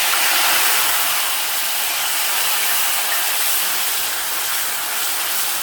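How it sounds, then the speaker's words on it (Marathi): Onion, asafoetida, cumin and whole spices sizzle steadily in hot oil while being sautéed for a dhaba-style rajma masala, a dense continuous hiss close by with no break. "आलेलं लसूण पेस्ट आणि चांगला कांदा ब्राऊन होईपर्यंत आपल्याला परतून घ्यायचं आहे"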